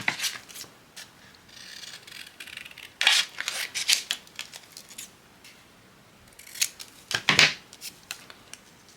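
Scissors snipping paper in a few short crisp bursts, close and fairly quiet, with soft rustling between cuts.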